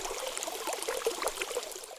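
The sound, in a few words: water being poured onto an ox in a cartoon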